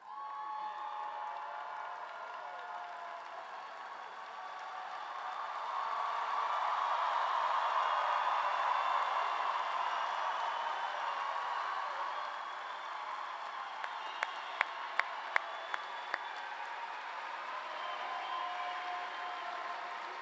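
Sustained applause from a crowd honoring graduates at a spring bachelor's degree ceremony, a broad steady wash of clapping that swells in the middle and carries on with a few sharper claps standing out near the end.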